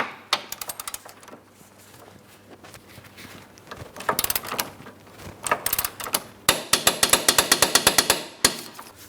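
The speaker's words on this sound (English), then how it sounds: "Got my torque wrench." A torque wrench ratcheting on the front lower control arm bolts of a 2003-2007 Cadillac CTS, heard as bursts of rapid, sharp metallic clicking in several runs, close by, separated by brief quieter gaps.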